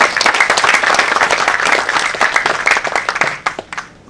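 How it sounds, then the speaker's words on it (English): An audience applauds continuously at a public seminar in Indonesia as the Mayor of Rotterdam is welcomed to the stage, with dense, steady clapping that thins out near the end. "Please, big applause to Mr. Aboutaleb."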